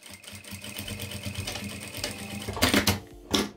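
A sewing machine runs a steady backstitch on fabric for a Suki-style wallet, with a rapid even whir, then two short louder bursts of stitching near the end.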